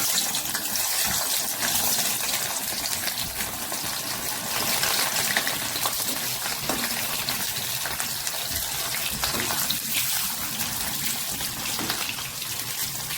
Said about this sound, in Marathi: चला तर तळूया.